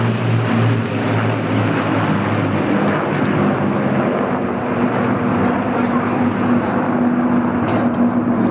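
Two Avro Lancaster bombers fly past at a seaside air show, their propeller engines producing a loud, continuous droning roar that stays steady and close throughout.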